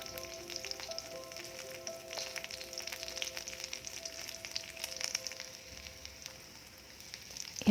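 Whole cumin, other spices and garlic sizzle steadily in hot oil for a pumpkin leaf chutney, a dense continuous frying crackle with small pops throughout and a sharp knock at the very end.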